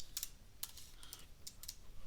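Quick bursts of computer keyboard keystrokes as a localhost URL is typed into a browser for a load-testing web interface, soft clicks in short irregular clusters, faint and close with no talk.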